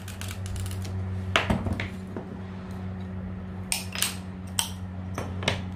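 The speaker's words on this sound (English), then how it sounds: "Running pliers helps to snap it." Running pliers snap pieces of mosaic glass for a koala mosaic, giving a few sharp, isolated cracks and clicks over a steady low background hum.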